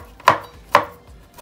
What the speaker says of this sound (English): I like to place my knife just like that. Give it a good whack.